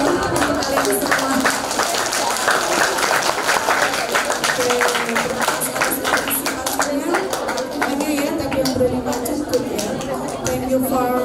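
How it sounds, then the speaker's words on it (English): Audience applause closing a bilingual teaching sharing session, a broad wash of clapping mixed with crowd chatter and voices, sustained and fairly loud throughout. "Okay, applause untuk kalian semua."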